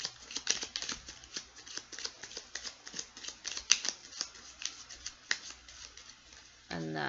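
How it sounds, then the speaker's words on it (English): A deck of tarot cards is shuffled by hand close up, giving rapid, crisp riffling flutters and soft card slaps in irregular bursts. A voice starts up right at the end. "I think we have 2 more shuffles"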